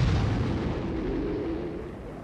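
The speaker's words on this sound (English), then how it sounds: "Corpse Explosion, basically allows you to detonate corpses on the ground for absolutely insane damage" Corpse Explosion skill in Diablo 4 detonating corpses on the ground, a loud, dense rumbling burst of blasts that stays heavy and low throughout without any voices.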